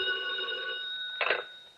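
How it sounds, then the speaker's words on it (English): A telephone bell rings in a radio drama, a sustained bright ring that cuts off and is followed by a short clatter as the receiver is picked up, heard alone with no talk. "We just about finished going through the overnight reports for some kind of a lead when the phone rang."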